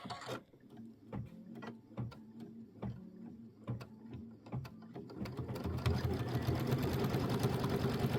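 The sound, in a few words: sewing machine stitching a quarter inch seam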